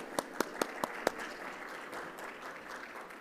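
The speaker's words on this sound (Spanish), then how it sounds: "Un fuerte aplauso para él, por favor." Audience applause at an education technology panel in Mexico opens with five sharp, evenly spaced claps close by, then settles into a faint, steady spread of clapping from the room.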